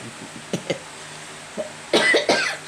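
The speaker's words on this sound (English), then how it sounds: "I've got the cough." A person with a chest infection coughs several times, a few small throat bursts followed by two harsher, louder coughs near the end, close and alone.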